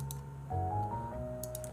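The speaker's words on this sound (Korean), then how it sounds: "키보드 이름 마밀로 MA87입니다. 흠이도 이 키보드 쓰는 것 같던데" Quiet, close typing on a Mamillo MA87 computer keyboard, a short run of soft key clicks over a low steady background hum.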